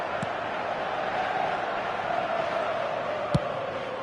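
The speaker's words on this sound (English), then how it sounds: "the crowd level has gone up a notch or 10" A steady wash of arena crowd roar holds throughout at a fairly even level, with a single sharp thump near the end standing out above the din.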